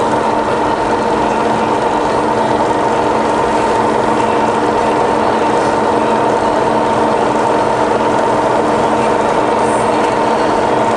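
The power feed on a rebuilt Bridgeport milling machine with a 42 inch table runs steadily, a constant mechanical whir and gear hum at even loudness with no pauses or voices.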